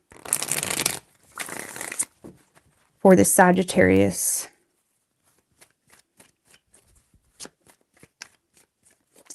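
Tarot cards riffle and shuffle in short, crisp bursts, three quick rounds with pauses between, followed by a spoken question and then faint scattered taps.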